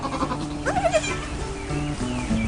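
Goats from a small family herd bleat close by, a few short wavering cries one after another over a quiet farmyard background.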